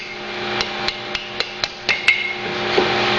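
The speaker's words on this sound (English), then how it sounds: "Favorite tool is a hammer." Hammer strikes ring out while fitting the top back into a gear housing during a seal replacement, about eight sharp metallic blows at irregular spacing, close and alone.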